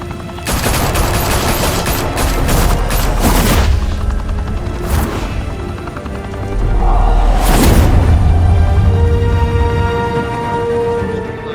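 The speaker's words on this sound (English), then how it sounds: "Now we only have to take one of you down. Open fire!" Loud bursts of gunfire and explosive booms in a Batman film shootout at a high-rise mafia club in Gotham, with rapid volleys, a lull, then another heavy blast and continued firing.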